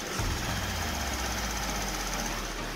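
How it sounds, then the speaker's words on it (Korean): Hyundai Genesis gasoline engine idling with the hood open, heard up close as a smooth, steady low hum with a faint high whine, even and unchanging throughout, no voices. "영상으로 엔진 소음 한번 담아보도록 하겠습니다"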